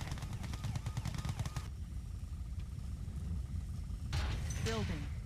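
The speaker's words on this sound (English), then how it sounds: "Why are they shooting?" Video game gunfire crackles in rapid machine-gun bursts during a tank strategy game, faint and distant under quiet game sounds, with a louder whirring effect near the end.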